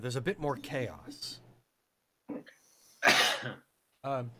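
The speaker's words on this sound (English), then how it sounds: "Yeah, it's a cough, but thanks." A single harsh cough bursts out between stretches of casual speech during a tabletop role-playing session, brief and close, with talk resuming right after.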